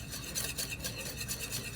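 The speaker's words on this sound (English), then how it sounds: "Give it a stir." Egg yolk and oil whisked into an emulsion in a bowl, a steady close rhythmic swishing and tapping of the utensil with soft repeated strokes and no talking.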